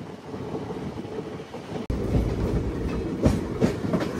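A passenger train on the Duvvada to Kottavalasa line rolls along the rails with a steady low rumble and rhythmic clickety-clack, a sharp jolt partway through.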